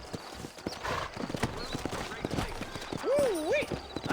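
Steady clip-clop of horse hooves on hard ground in the video game Red Dead Redemption, fairly close, with someone speaking over the trotting rhythm and a brief horse whinny near the end.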